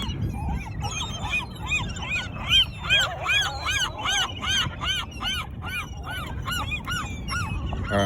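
Loud, repeated gull cries overlap in a steady chorus, a whole flock calling nearby over thrown chicken for several seconds with no talking.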